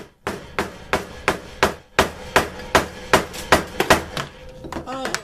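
Slot punch driven by a mallet through a leather belt, a quick series of about a dozen sharp thwacks in an uneven rhythm, close and loud, ending with a faint rattle.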